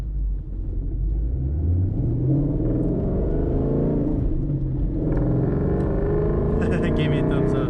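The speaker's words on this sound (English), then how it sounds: "Just trying to shift through the gears and get everything going." A Ford Mustang GT's engine drones steadily and loud while driving through a neighborhood, its pitch climbing and dropping as the car shifts up through the gears.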